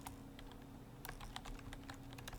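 Rapid clicking keystrokes on a computer keyboard, quiet and close, coming in irregular bursts with brief pauses between them.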